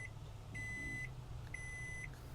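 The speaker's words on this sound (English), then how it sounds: "First time using the microwave too. I guess let's put 3 minutes." A microwave oven inside a van beeps as its timer is set: two long, steady electronic tones about half a second each, clear and close over a low background hum.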